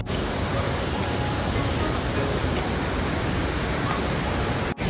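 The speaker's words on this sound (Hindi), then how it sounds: "देख सकते हो बहुत ही प्यारा सा झरना" A mountain waterfall on the steep trekking trail to Hemkund Sahib produces a loud, steady, broadband rushing roar that stays constant throughout, with no talk heard.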